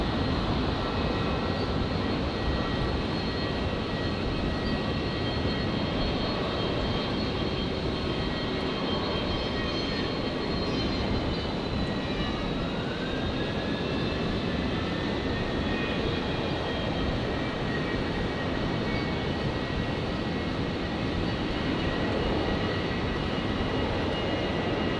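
A Qantas Boeing 737 airliner taking off on runway 01 right at Brisbane Airport, its jet engines roaring loud and steady throughout with a rising whine sweeping through mid-roll.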